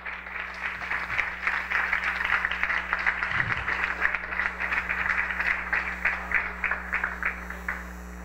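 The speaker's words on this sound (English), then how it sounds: "Clap your hands if you want." A church congregation claps hands in a fairly even rhythm that keeps going throughout, with a steady low hum beneath and no clear talk over it.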